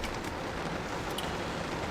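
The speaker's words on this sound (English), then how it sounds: "it's a rainy day here" Steady rain falls during a rainstorm, a dense even hiss with no pauses, heard from inside a car where garlic is being planted in buckets.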